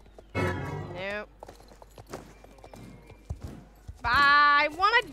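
In the video game Star Stable Online, a horse's hooves clip-clop in soft, scattered steps between and beneath bursts of a person talking.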